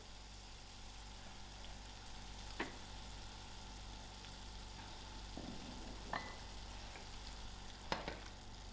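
Tomatoes and herbs sizzle as they cook in a pot, a faint, steady frying hiss with a few brief clinks of stirring, with no voices.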